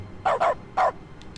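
Dog barks in the dog mode of The Stanley Parable Ultra Deluxe, three quick, loud yips close together, two back to back then one more, with faint ticks after.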